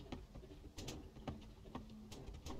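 Pigeons in the survival game 7 Days to Die, soft low cooing and faint wing flutters repeating irregularly in the game's quiet ambient mix.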